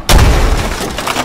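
Heavy shell impacts strike a Leopard tank in a tank battle video game, a sudden loud boom followed by a rumbling, crackling tail that lingers and fades.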